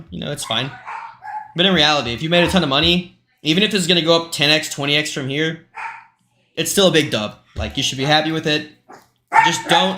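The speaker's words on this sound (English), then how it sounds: "sorry about the dog" A dog barks in short, intermittent bursts during a livestream, mostly buried under a man's steady, continuous talking.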